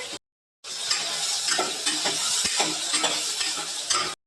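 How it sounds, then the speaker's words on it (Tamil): Tomatoes being stirred into mutton curry as it fries in a pan, a close, steady sizzle with repeated scraping stirs and small clinks after a brief silent start. "தக்காளி அள்ளி போட்டுக்கலாம். 2 கிண்டி கட்டிக்கலாம்."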